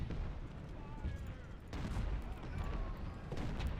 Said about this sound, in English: Taking so much artillery fire from Dunkirk Church.